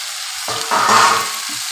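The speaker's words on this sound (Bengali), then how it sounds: "এবার আলুটা দিয়ে দেবো।" Potatoes dropped into a pan of cooked-down spice masala, giving a loud sizzling fry that swells after a moment and keeps hissing steadily, with no talk over it.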